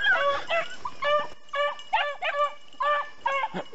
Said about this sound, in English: Oh, he's barking.